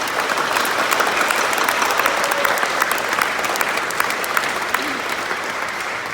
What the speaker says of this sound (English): Please join me in applauding him for his hard work and perseverance.